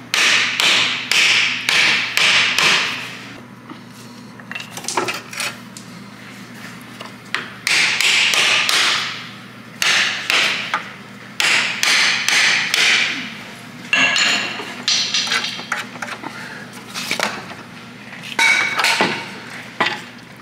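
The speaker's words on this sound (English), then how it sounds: "we're gonna tap on the axle" Hammer blows on a long wood block set behind a Saab front right CV axle to knock it out, sharp close taps in rapid bursts separated by short pauses, alone without talk.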